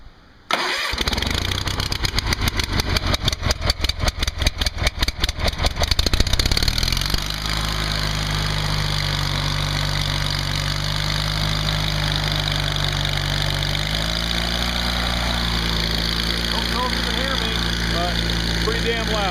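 A Gravely Promaster 300 riding mower engine cranks with a rapid stuttering chug for several seconds, catches, and settles into a loud, steady low idle close by.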